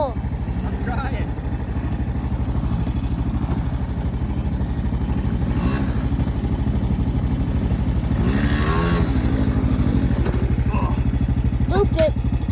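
A pit bike with a Predator 50 engine drones loudly and continuously, with a steady pulsing motor tone held at high throttle throughout, while people talk and shout over it.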